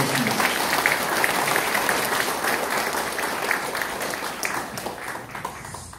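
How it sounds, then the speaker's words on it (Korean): An audience at a special lecture with Incheon's mayor gives welcoming applause, a loud, dense, continuous burst of clapping that tapers slightly toward the end. "환영의 박수 부탁드리겠습니다"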